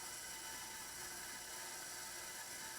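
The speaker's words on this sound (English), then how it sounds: "I will just let the bandsaw narrate the rest of this part of the video." A bandsaw cuts through a guitar body blank with a steady, even, high-pitched whine and rasp that never changes, with no voices at all.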